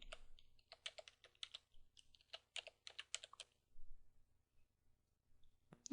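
Someone types a passphrase on a computer keyboard: quiet, irregular bursts of key clicks with short pauses between them, close and alone against near silence.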